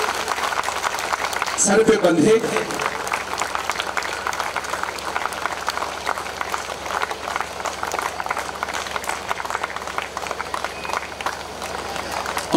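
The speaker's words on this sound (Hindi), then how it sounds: "जोरदार तालियां, आपकी तालियां बजती रहे जब तक ये पगड़ी इनके" An audience claps steadily through a turban-tying welcome at an event, a broad, sustained wash of applause under someone speaking over a microphone.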